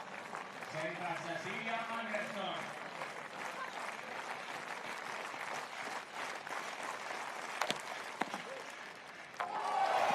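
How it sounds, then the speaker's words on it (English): A crowd cheers and applauds at a women's U23 European Championships pole vault final, a broad sustained roar with clapping while a commentator talks over it, and a few sharp knocks near the end. "Just listen to the crowd cheering for the local girl."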